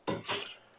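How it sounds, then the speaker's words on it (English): Two quick metallic clatters of pots and pans knocking together, close and short, followed by a faint ring. "you've got your pots and your pans"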